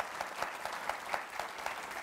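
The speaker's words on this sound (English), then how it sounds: "Give him a very brief round of applause." Brief, steady applause from an audience at a talk on data in the 21st century, moderately quiet and even, with a dense patter of hands and no speech over it.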